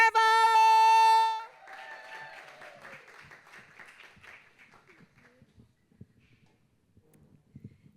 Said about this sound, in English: Please put your hands together for Alli Tervo.